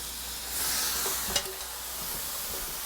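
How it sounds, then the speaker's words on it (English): Two pounds of shrimp drop into a hot pan and set off a steady, close hissing sizzle, with a brief clink of a utensil partway through and no talking. "And then we're going to add 2 pounds of shrimp."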